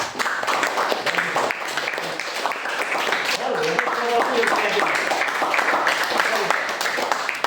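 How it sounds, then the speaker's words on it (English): A Grade 9 class applauding a student after a slide presentation, loud, busy clapping from a roomful of people, with voices and chatter mixed in throughout. "Give a big round of applause to him."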